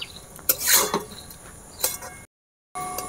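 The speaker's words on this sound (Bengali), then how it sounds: "এভাবে 1 থেকে 2 মিনিট ভালো করে নেড়ে নিতে হবে সমস্ত সস মশলার সাথে" Chili garlic potato balls are stirred in sauce in a pan, with close scraping and clinking of a utensil against metal in short bursts before a brief silence.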